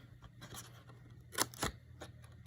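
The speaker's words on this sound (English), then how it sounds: "Cut the corner and miter cut." Scissors make a few quick, close snips while mitering the corner of a handmade paper mini journal, with two sharper cuts standing out in the middle.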